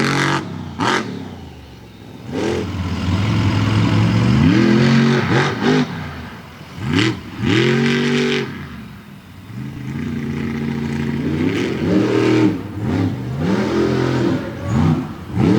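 A General Tire Ram monster truck engine revs hard in repeated rising and falling surges while spinning dusty donuts at a freestyle show, loud and close, with the roar swelling and dropping over and over.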